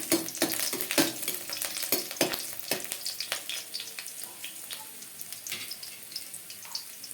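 Chopped garlic and dried red chillies fry in a pan, giving a lively sizzle broken by scraping stirs and clattering spoon strokes early on, then easing into a quieter steady crackle.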